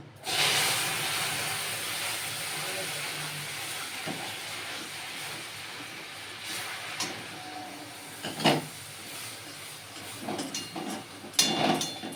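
Milk poured into hot caramel sizzles in a steady hiss while it is stirred, broken by a few sharper scrapes and bursts of bubbling toward the end.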